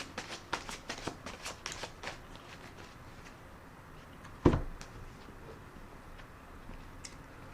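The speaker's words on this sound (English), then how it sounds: "I'm going to put another shuffle and rifle on the cards" Old, heavily used, swollen tarot cards being shuffled and riffled, a run of quick papery flutters and slaps up close, one louder snap of the deck partway through, then softer handling.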